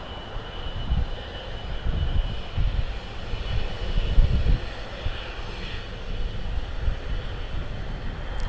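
An Australian airliner taking off from LAX, a broad rumbling jet roar heard from the airport side, steady and fairly loud throughout with no voices.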